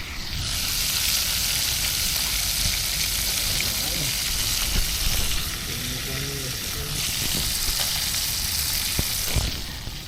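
Small live-bait fish frying in hot oil give off a loud, constant sizzle and crackle, with occasional stirring clatter and brief voices in the background.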